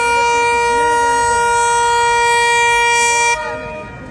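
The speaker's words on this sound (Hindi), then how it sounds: "2:35 पे इनिशियल डिपार्चर हॉर्न सुन लिया आपने 10 डाउन 6003 लोकोमोटिव का।" Loud, close train horn from locomotive 6003 sounding for departure at a railway station, one sustained multi-tone blast of about three seconds that cuts off abruptly and leaves a fading rumble.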